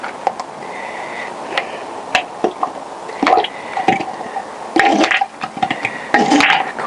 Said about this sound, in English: be careful when you take that bolt out, because your oil will start pouring out